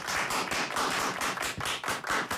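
Loud applause for the band at a live show: a dense, continuous crowd clapping that rises and falls in waves and fills the whole moment without any talking.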